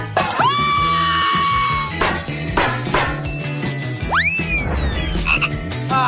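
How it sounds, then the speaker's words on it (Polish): A frog sits under a cloche during a kitchen cooking challenge and gives loud, repeated croaks. Sharp rising squeaky calls come between them, with no talking. "To znaczy, że ja mam prawdziwą żabę pod swoim kloszem."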